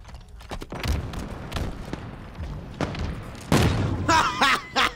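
Gunfire from Halo Infinite multiplayer: a series of sharp, punchy shots and bursts in uneven clusters, louder toward the end, with brief bright crackling impacts and little talk.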